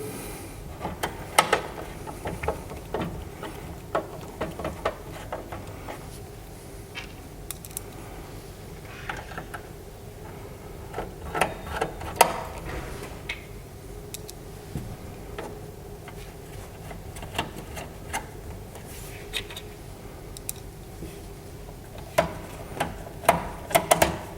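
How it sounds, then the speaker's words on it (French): Small metallic clicks and ratcheting ticks from a screwdriver driving screws to fix a power supply into a PC case, irregular and close, with a low steady hum underneath and no talking. "on viendra la fixer à l'aide de 4 vis qui sont présentes dans le bundle"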